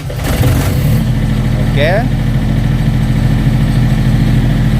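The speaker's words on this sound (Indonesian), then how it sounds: "Oke mas, start engine." A Yanmar 13 kVA generator engine starts and settles into a loud, steady diesel idle close by, a continuous low throbbing rumble, with someone speaking briefly at the start.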